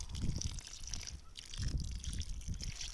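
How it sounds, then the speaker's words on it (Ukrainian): Diluted fertilizer solution, a tablespoon per bucket of water, is poured from a bucket in a circle under a rose bush, giving a soft, close splashing trickle that swells and eases in pulses. "під кущ буду виливати один літр отакого по кругу"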